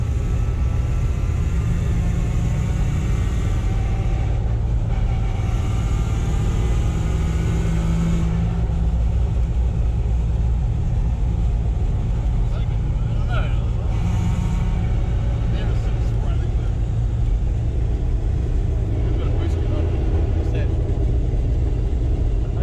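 A supercharged 1UZ-FE V8 in a Toyota Land Cruiser Prado with an M90 supercharger and Megasquirt ECU, running loud with boots off, a steady heavy rumble from start to finish with people talking over it.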